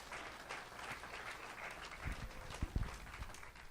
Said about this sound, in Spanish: Si vas a darle un aplauso, dáselo fuerte al Rey de Reyes y Señor de Señores.